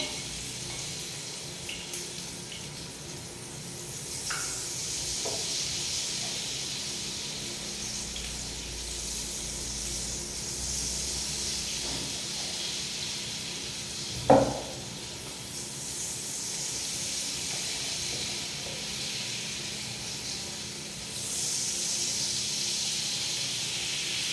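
Appam batter frying in ghee for a Karthigai Deepam festival sweet, a faint steady sizzle and hiss with one brief clatter midway, no talk.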